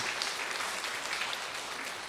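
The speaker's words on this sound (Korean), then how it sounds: "자, 우리 박수 한번 하겠습니다." A church congregation at a Thanksgiving Sunday service claps together. The soft, diffuse clapping is fairly distant and even, continuing briefly without speech.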